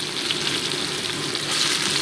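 Soybean chunks coated in salt and turmeric fry lightly in oil, giving a steady, close crackling sizzle throughout with no voices.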